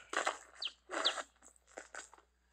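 Rapid, bright chirping bursts from a bird, several quick clustered phrases close up with brief gaps between them, alone without talk.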